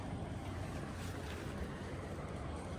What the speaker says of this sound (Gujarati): મોજાનો અવાજ આવે ભાઈ જોરદાર